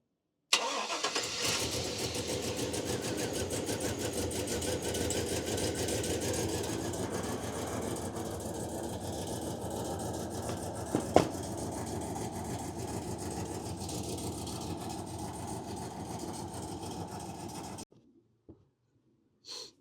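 A GMC engine cranks and catches, then idles steadily and loud up close for about seventeen seconds before cutting off, with a brief clunk midway and a few small knocks after it stops.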